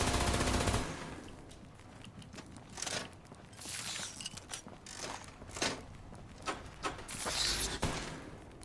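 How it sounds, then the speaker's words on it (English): A Gatling laser fires in the video game Fallout 76: a dense burst at the start, then scattered sharp zaps and mechanical clicks in short, uneven bursts at moderate volume. "The Gatling laser has a little bit of a triggered speed time."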